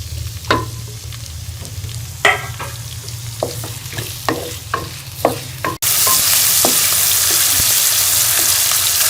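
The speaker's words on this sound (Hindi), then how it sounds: "इसके साथ ही हम इसमें टमाटर और शिमला मिर्च भी डाल देंगे। ऐसे हम 3 से 4 मिनट के लिए फ्राई कर लेंगे।" Onion goes into a pan, then tomato and capsicum, all frying for a hotel-style chicken shashlik with gravy. Sharp spoon clinks and scrapes over a low hum give way to a sudden, loud, steady sizzle as more vegetables are added.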